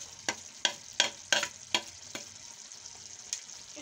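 Spatula scraping repeatedly through chicken karahi with ground coriander, cumin and Kashmiri red chilli in a pan, about seven distinct strokes over a steady background sizzle, close and clear with no talking.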